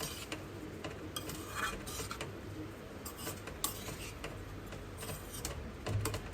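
Drained soaked rice tipped gently into a pan of sizzling oil and spinach for spinach coriander rice, a soft grainy patter over a steady close sizzle with light utensil clicks.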